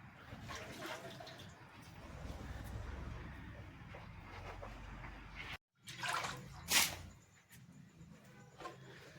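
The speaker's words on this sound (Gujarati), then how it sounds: "બધું વધારાનું પાણી હવે ઢોરી નાખવાનું" Excess water splashes and trickles out during buffalo milk processing, pouring in uneven bursts after a brief pause, fairly close and quiet.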